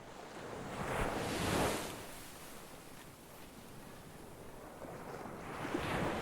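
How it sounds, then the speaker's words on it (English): Sea waves wash against the shore in slow, soft swells, rising and falling as a broad hiss with a faint wind-like rush and no voices. "In the distance, the sea sighed against the shore"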